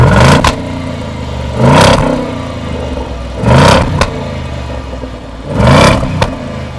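A Jaguar XJL's 5-litre V8 engine is blipped four times at steady intervals, each short rev swelling loudly and dropping back to a low idle between bursts, with nobody talking.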